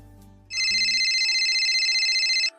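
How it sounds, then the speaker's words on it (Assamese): A telephone rings loudly and steadily for about two seconds, a bright electronic ringtone that follows a brief moment of quieter sound and cuts off abruptly. "ঘৰ পাই লগালগ তৰালিলৈ ফোন।"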